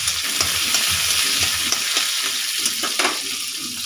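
Chopped carrots and beans fry in a pan for a winter chicken soup, giving a loud, steady sizzle. Repeated scraping stir strokes sound close by throughout.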